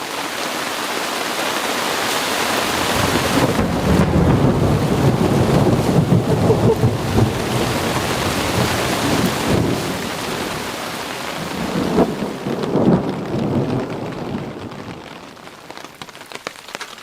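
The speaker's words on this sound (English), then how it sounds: "It's been pouring for a little while now." Heavy rain pours steadily onto a tarp at a canyon campsite, with deep rolls of thunder rumbling through, loud and continuous before the downpour eases toward the end.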